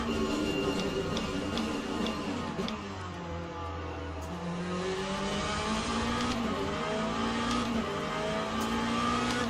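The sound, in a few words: hypercar race cars passing in video game Le Mans Ultimate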